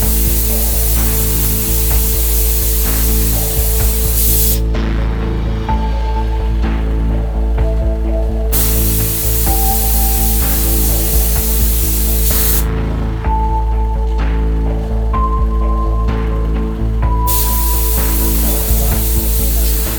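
Red toxic dye sprayed at a leather works, a loud continuous hissing spray that cuts out twice for a few seconds, with machinery hum and faint tones beneath.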